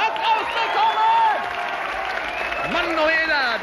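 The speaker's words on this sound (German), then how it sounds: "Applaus!" A TV studio audience at a New Year's Eve game show claps in brief applause, mixed with people talking over it.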